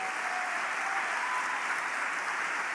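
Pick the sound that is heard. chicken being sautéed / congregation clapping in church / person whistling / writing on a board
congregation clapping in church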